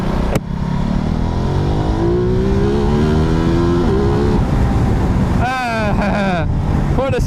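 A 1260 enduro motorcycle engine drones loudly and steadily, its pitch climbing as it accelerates, with a brief higher whine near the end; close, continuous and dominant.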